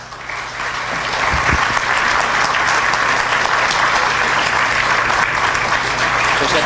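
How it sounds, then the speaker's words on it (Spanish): Audience at a management leadership lecture applauds to welcome the incoming speaker, a sustained, even wash of many hands clapping close by, with a faint low hum beneath. "Te recibimos con un aplauso."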